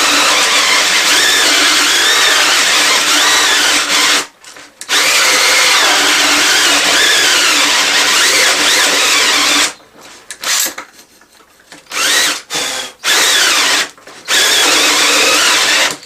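A cordless drill fitted with a hole cutter bores through material in long, loud, close whines, stopping and restarting several times in short bursts as the battery runs flat, with no talking.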